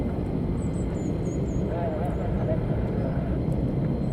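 F-16 and Alpha Jet fighter jets flying near RAF Lakenheath give a continuous loud engine roar and rumble that holds steady throughout, heard at a distance.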